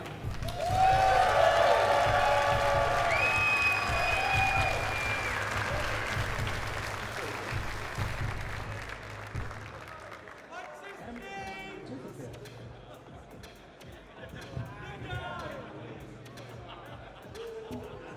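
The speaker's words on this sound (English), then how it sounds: "So please a round of applause for the guy." Applause and cheering from a large crowd at a demoscene party event, loud and dense at first with a music bed underneath, then thinning out as chatter and shuffling take over.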